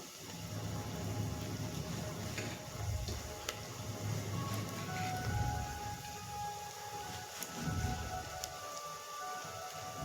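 Chopped onion frying in a pan at home until it browns, giving a steady, close sizzling hiss with a soft low rumble that runs without pause throughout.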